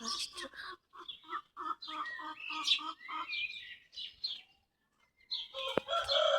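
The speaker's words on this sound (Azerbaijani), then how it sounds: "Xoruz banlayır." A rooster near a new cage crows in loud, repeated calls alongside clucking and chirping fowl, with brief pauses between bursts and a voice speaking.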